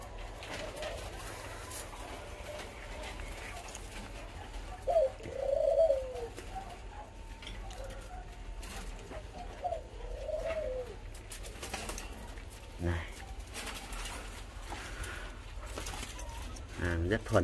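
A male spotted dove coos in a few short, soft phrases spaced several seconds apart, close but quiet, while a person talks quietly at times.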